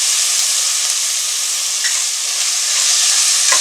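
Tomato pieces fry with ginger garlic paste in a loud, dense, hissing sizzle that fills the whole stretch, with a couple of faint stirring taps and no talking.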